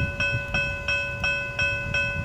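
Brightline high-speed train passing a road crossing during a test run, heard as steady rolling rail noise with a crossing bell ringing in a regular rhythm, about three strikes per second, loud and close, with no talk.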